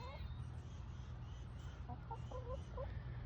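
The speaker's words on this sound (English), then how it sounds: "Let me show you my chickens." Backyard chickens cluck in a short run of soft, close calls, heard alongside a low steady background rumble.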